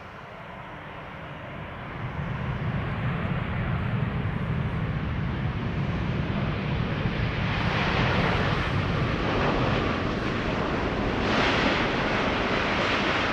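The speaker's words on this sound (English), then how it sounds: "This is a 787-10 Dreamliner, the PHBKI, 4 years old" A four-year-old Boeing 787-10 Dreamliner jet passes with a broad, rushing engine roar that rises after a quieter start and stays loud and steady, mixed with wind buffeting on the microphone.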